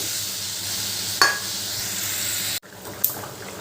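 Curry broth of raw green banana, fried potatoes and salt bubbling in a pot, a steady sizzling hiss with a couple of sharp metallic clinks from a spoon against the pot.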